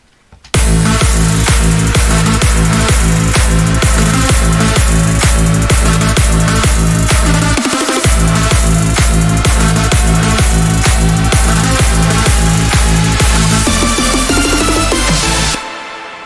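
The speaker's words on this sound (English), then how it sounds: "This is the second part of the first drop" A big room EDM drop built in FL Studio for a track, with a loud pounding four-on-the-floor kick, buzzy synth stabs in a driving triplet rhythm, a rising sweep and a brief break midway before the beat returns.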